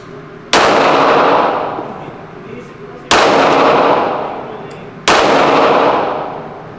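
A Glock 45 MOS pistol fires loud, sharp single shots, three clear reports spaced a couple of seconds apart, each ringing out with a long echoing decay, at an outdoor range.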